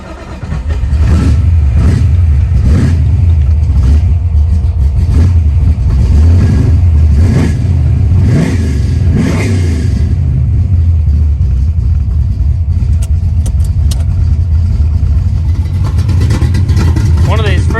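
A Ford Mustang Foxbody engine fires up and revs, a loud, deep rumbling idle punctuated by several throttle blips, close by, with rattling mufflers noted, settling to a steadier idle later.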